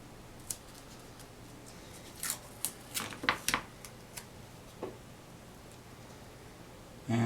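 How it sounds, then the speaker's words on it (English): Small pieces of 3/4 inch masking tape torn off a roll, scattered short crackling rips and ticks clustered in the middle, close and fairly quiet against a low background hum. "I'll get my 3/4 inch tape and I will tear off little pieces and lay it across where I don't want any paint"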